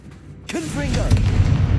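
A character shouts a spell, then the Confringo blasting spell bursts into a heavy, rumbling explosion in Hogwarts Legacy, loud and close, sustaining a deep roar until the end.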